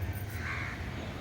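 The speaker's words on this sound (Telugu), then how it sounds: "మీకు వినిపిస్తున్నాయా చిలకల సౌండ్లు అవన్నీ" A bird on a rooftop in the early morning gives a single short call partway through, over a constant low background hum.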